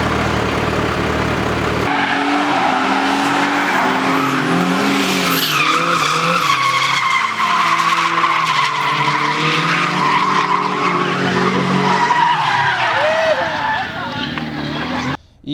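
An alcohol-fuelled race car drives on a track, its loud, continuous engine drone and tire noise filling the whole stretch, with a brief drop near the end.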